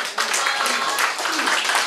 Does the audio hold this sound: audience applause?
yes